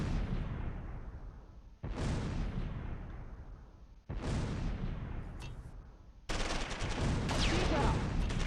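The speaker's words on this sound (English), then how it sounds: "Drop more mortars. Uh-oh. Enemy mortar." Mortar rounds and gunfire in the Close Combat III wartime strategy game: four heavy blasts that each ring out and fade, the last followed by a dense rattle of shots.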